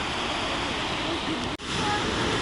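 A small waterfall in Johnston Canyon pours with a steady, dense rush, heard close and unbroken apart from one brief dropout.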